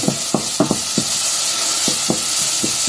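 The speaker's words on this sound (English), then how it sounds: "Just coat those with the oil, they don't need much in the way of frying." Steady sizzling hiss of leeks frying in oil in a pan, punctuated by sharp scraping clicks of a utensil stirring at an uneven rhythm, close up.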